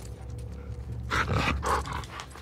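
A dog in The Last of Us Part 2 snarls and growls in rough, loud bursts over low rumbling game sound, heard up close during combat.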